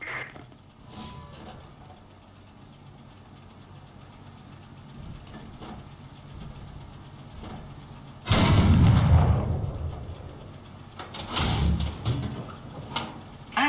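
Tank cannon shells fire in War Thunder, a heavy booming blast near the middle followed by a second cluster of sharp reports, over a steady engine rumble with no talk.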